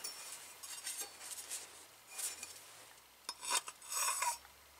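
A hand file worked against a metal plate while fitting a VEVOR diesel heater, giving short bursts of bright rasping strokes, some sparse and light, then heavier clustered strokes near the end, close by with no talk.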